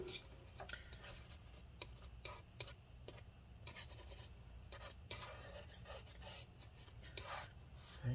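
Scrubbing leftover adhesive goop off a 15-inch Retina MacBook Pro A1398 battery area, a fast series of quiet rubbing and rasping strokes over a low steady hum, close and without talk.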